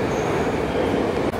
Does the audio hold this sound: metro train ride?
yes